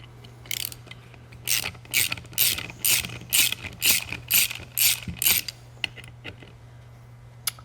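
Unscrewing three screws from the operating handle of an Eaton Carter heavy-duty ground fueling nozzle: a run of crisp, rhythmic ratcheting clicks, close and fairly quiet, with a low steady hum beneath and no talk.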